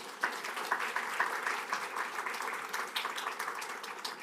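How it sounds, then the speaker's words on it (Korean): Sunday worship congregation at Jukjeon Woori Church applauding steadily to welcome a guest pastor, a sustained, even wash of clapping from many hands, moderately distant and without a break. "우리 박수로 맞이하도록 하겠습니다."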